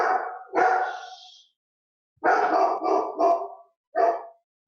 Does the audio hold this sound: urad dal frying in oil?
no